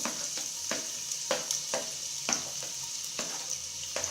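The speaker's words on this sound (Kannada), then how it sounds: "ಅದಾದ ನಂತರ ನಾವು ಸಣ್ಣಕ್ಕೆ ಹೆಚ್ಚಿರುವಂಥ ಈರುಳ್ಳಿನ ಹಾಕೊಂಡು ಹುರ್ಕೊಬೇಕು" Finely chopped onions fry in a pan for egg biryani, giving a steady, close sizzle broken by regular clicks and scrapes as they are stirred.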